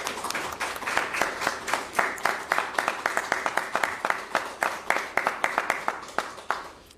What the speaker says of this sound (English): can we get a round of applause for our health champions?